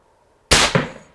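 An airgun shot fired over a wireless mini pocket chronograph: one sharp, loud crack after a near-silent lead-in, with a second smaller impact-like pop and a short decaying tail.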